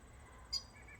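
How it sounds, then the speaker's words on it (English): A single short bird call rings out once, faint, over quiet outdoor background on a farm. "I hear a bird."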